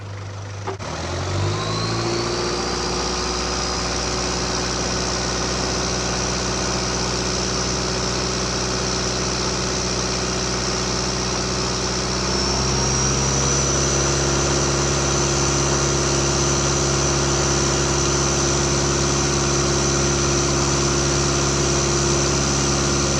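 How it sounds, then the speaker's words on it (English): A 2001 Toyota Land Cruiser Prado GXL engine idles steadily, then its revs climb to about 2000 rpm halfway through and hold at a higher, louder, constant pitch during decarbonising spray cleaning for power loss. No talking. "We need to increase the revs to 2000 revs, leave it there"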